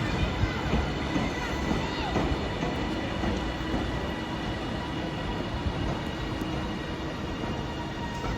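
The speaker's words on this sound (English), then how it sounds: "So there goes 397012 bound for Edinburgh" A TransPennine Express class 397 train, unit 397012, departs Carlisle station for Edinburgh with a steady rumble and rolling wheel noise at close range, while a voice speaks over it.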